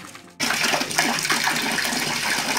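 Water gushing into a meter-deep fish pond being prepared for gourami, a loud steady close rush that starts abruptly and continues without a break.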